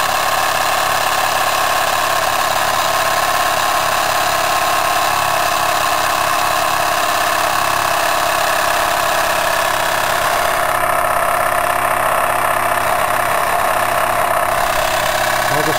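A Jensen 75 model steam engine fitted with a Mk-II superheater runs steadily at high speed, a loud continuous mechanical whir and hiss with a constant buzzing hum throughout and no clear pauses.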